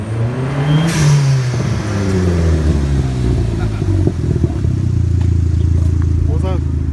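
A Honda/Acura Integra Type R engine revs up with rising and falling pitch sweeps before settling into a steady, loud rumbling idle and passing drone, with voices talking over it.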